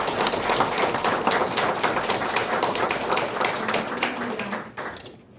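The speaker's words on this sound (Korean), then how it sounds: "나오실 때 뜨거운 박수 부탁드리겠습니다." Warm applause from an audience at a 2022 press conference for a Hwaseong mayoral candidate as she comes to the podium, dense steady clapping that tapers off at the end.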